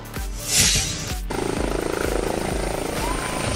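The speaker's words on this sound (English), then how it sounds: "Police helicopter." A helicopter's rotor thumps in rapid, steady pulses under a droning engine, after a brief whooshing rush of noise at the start.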